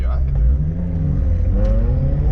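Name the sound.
Mercury XR4Ti car engine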